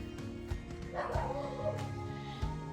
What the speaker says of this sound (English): and Basil's barking